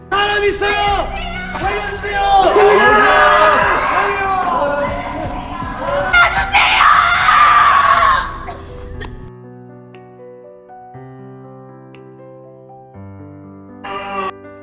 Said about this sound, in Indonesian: Pak Dong-un dan lainnya berusaha mencari pertolongan dengan mencoba berteriak sekuat mungkin